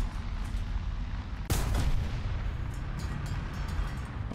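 A Soviet tank's main gun in War Thunder fires through a bush. One sharp, loud blast goes off partway through and leaves a rumbling tail, with faint crackles trailing after it over a low background hum.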